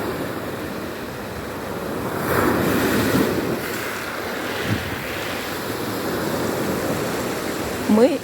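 Sea waves washing in over a steady broadband wash, with slight wind noise on the microphone and a few louder surges. No talk is heard.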